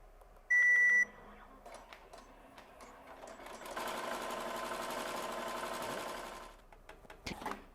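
A Melco Summit embroidery machine stitches a design onto a cap: a short loud beep, then a steady rapid mechanical whirring and needle chatter for a few seconds before it stops, no talk.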